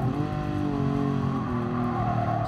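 A race car engine in the driving game GT Sport drones loud and steady throughout, with rich layered harmonics and a slight rise and fall in pitch as it holds revs, with no talking.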